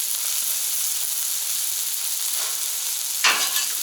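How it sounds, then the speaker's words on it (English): Onion smash burgers sizzle steadily on a Camp Chef FTG600 flat top grill outdoors in extreme cold, a continuous close frying hiss with a brief scrape near the end. "Get ready to move my burgers on top of them and give them a nice smash."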